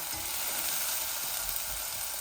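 Steady, dense sizzling of chicken liver curry frying in a nonstick pot over medium heat, close and continuous with no voices.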